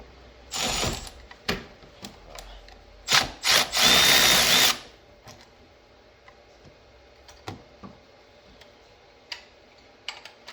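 A power tool loosens bolts on a 7.3L Powerstroke diesel engine, with two loud bursts of whirring and rattling, the longer one about a second and a half, then scattered clicks and taps of tools and parts.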